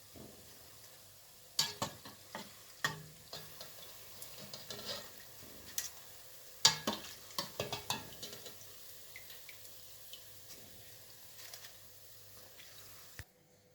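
African doughnuts (mikaté) frying in oil, a quiet bubbling sizzle punctuated by irregular clinks and stirring knocks from a utensil, close and faint.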